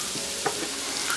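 Onions softening in a pan, frying with a steady soft sizzle for a brief moment, one small stir-like tap in the middle.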